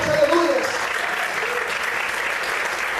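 A church congregation applauds during a sermon, a steady wash of clapping across the room, with a voice briefly audible near the start over the applause.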